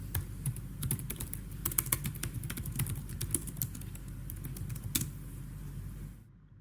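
Rapid typing on a computer keyboard, with irregular clicky keystrokes bursting quickly and steadily over a low hum of background noise, close and fairly loud, stopping abruptly near the end.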